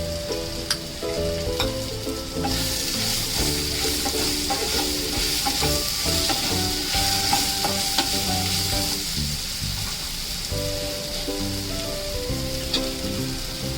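Raw mango pieces sizzle and fry in hot spices while a spoon stirs them around the pan, a steady loud crackle with repeated scraping strokes throughout and no talking.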